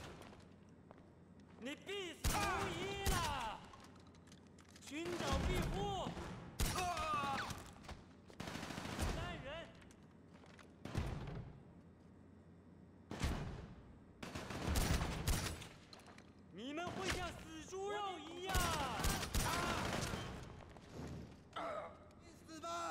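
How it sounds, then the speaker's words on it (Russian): Combat shotgun fired in a video game, with repeated bursts of loud booming blasts separated by brief pauses, clustered shots recurring throughout. "Вот как стреляет наш боевой дробовик."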